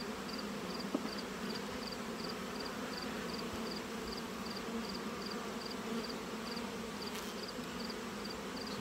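A honeybee colony inside an opened hive hums with a steady, soft buzz that fills the whole stretch, punctuated by a faint repeating high chirp and a few small knocks near the start.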